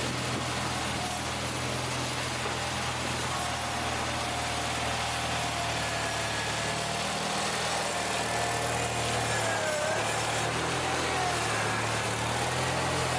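A small tractor engine runs steadily and close, a constant low drone with slight shifts in pitch as it back-drags a driveway crusted with ice, and no voices.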